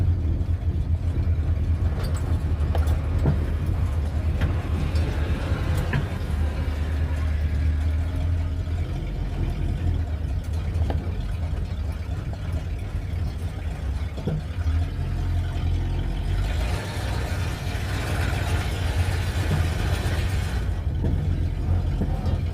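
A Ford Fairlane's engine runs steadily through a test drive, a loud, continuous low rumble with mild rises in pitch as it shifts through the gears, with no talk over it.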